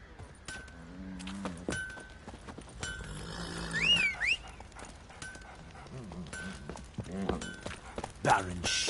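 A horse's hooves clip-clop along in The Witcher 3: Wild Hunt, a steady rhythmic trot under game dialogue and ambient sounds, with talk running over much of it.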